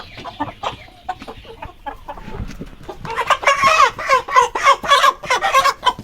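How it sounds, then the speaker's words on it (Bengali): Tiger roosters in a farm shed cluck and squawk in a loose chorus, starting sparse and growing busier and louder, with scattered calls overlapping nearby. "আমার 3 নাম্বার শেডে অল্প কিছু টাইগার মোরগ আছে।"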